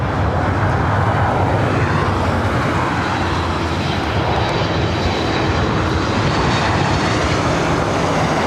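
Air Canada Boeing 737 MAX 8 jet at LAX, producing a continuous loud engine roar with a dense rumble that stays steady across the whole stretch, no talk over it.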